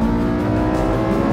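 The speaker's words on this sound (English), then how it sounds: "Listen to the noise, pure motorsport, that engine." Loud, close engine roaring as it revs and accelerates, a harsh throaty tone rising steadily for a moment.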